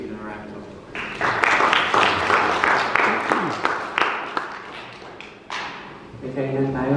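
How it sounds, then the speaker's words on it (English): Church congregation at a Filipino Sunday Mass clapping for the choir and lectors, a dense burst of applause with scattered thumps that swells and tapers over several seconds, with a voice speaking over the start and end. "Please give them a round of applause"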